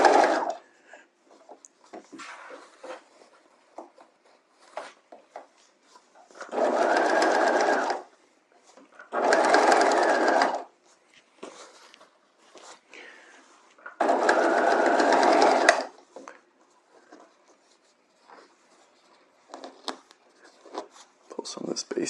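A sewing machine stitches a bodice hem over boning in three loud, close bursts of a few seconds each, separated by quieter gaps of handling noise and someone talking.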